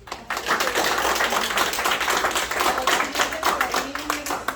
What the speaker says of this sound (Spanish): Le damos un aplauso a Ari.